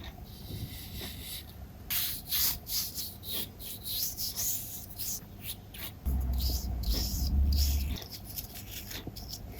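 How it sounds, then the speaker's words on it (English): Rough, scratchy rubbing strokes come in short bursts as sandpaper works the edges of a small wooden wand ring, close and fairly quiet with brief pauses between passes and a low thump near the end. "I might just sand off these edges slightly"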